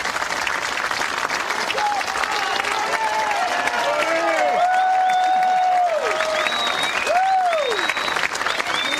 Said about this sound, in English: how about this ovation from the crowd?